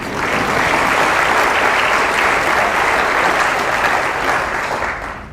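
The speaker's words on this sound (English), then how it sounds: "let's give them a round of applause" An audience at a county budget presentation applauds, a dense, loud, steady wash of clapping that holds throughout and fades slightly at the end.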